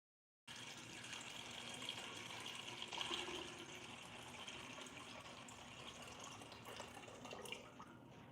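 Water streams steadily from a tap into a container in a kitchen, a continuous gushing fill lasting several seconds, heard alone and fairly faint without talk.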